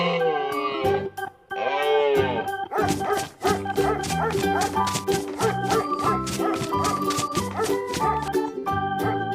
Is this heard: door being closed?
no